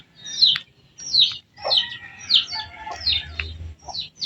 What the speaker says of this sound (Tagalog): Ayun, isang manok.